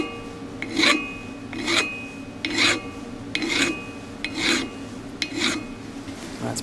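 A hand file scrapes a burr off the end of a steel brake line tube in about seven even, rasping strokes, close and fairly quiet with no voices.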